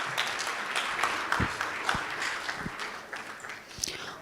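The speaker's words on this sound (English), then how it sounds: "can we once again welcome him on stage with a round of applause?" A conference audience at a corporate governance summit breaks into sustained applause, a dense, even patter of many hands clapping for several seconds with faint background voices.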